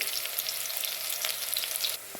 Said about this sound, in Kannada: ಉಳ್ಳಾಗಡ್ಡಿ ಫ್ರೈ ಆಗಬೇಕ್ರಿ